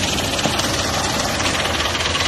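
A Belarus 510 tractor, hitched to an 18-disc plough in a Punjab field, runs with a loud, steady diesel drone and a low knocking rumble from close by.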